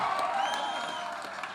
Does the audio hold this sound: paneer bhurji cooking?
no